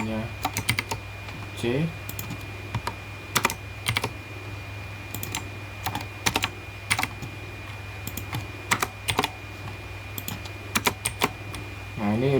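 Computer keyboard typing during a coding session, with scattered bursts of key clicks and the sharp tap of a Ctrl V paste shortcut. A voice speaks briefly between the irregular keystrokes over steady background hum.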